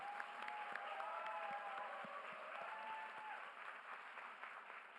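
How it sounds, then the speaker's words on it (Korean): An audience at a town hall meeting in Jeju claps in steady applause, moderately distant and fairly faint, holding for several seconds. "박수로 더 크게 쳐주세요."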